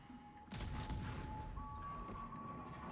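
Warship main guns firing a full salvo in a naval video game: a cluster of deep booming blasts at moderate distance, fairly quiet, followed by a rumbling tail over a thin steady tone.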